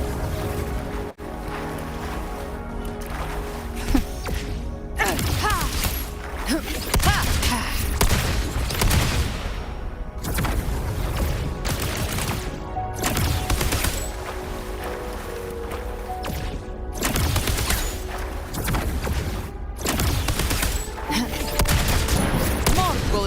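Rapid bursts of gunfire from the video game Wuthering Waves, repeated volleys in clusters with short gaps, loud and close over a dense layer of game music and effects.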